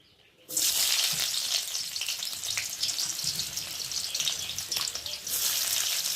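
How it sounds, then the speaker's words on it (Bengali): Chopped onions land in hot oil and start frying, and a sudden loud sizzle bursts up and then holds as a steady, close crackle with faint stirring underneath. "তেলটা গরম হয়ে গেছে, আর এখন আমি পেঁয়াজ কুচি দিয়ে দেবো।"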